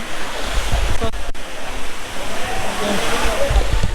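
A waterfall in the Chandranath hills at Sitakunda pours in a loud, continuous rushing wash close by, with low rumbling gusts and a voice heard faintly.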